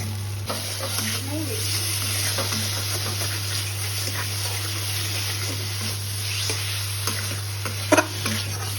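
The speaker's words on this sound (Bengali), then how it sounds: "মশলাটা খুব ভালোভাবে মশলাটা মা ভালোভাবে কষিয়ে নিয়েছে, তেল ছেড়ে দিয়েছে" Spice paste cooked down in oil in a pan until the oil separates, giving steady sizzle and stirring scrapes over a constant low hum, near and without speech.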